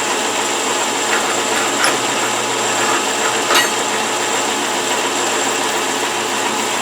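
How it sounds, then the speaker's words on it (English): A cutoff tool cuts metal on a 1931 South Bend 11-inch lathe, a steady machine hum with a faint whine and a few brief scraping bursts, fairly loud and close, with no speech. "This cutoff tool works really good."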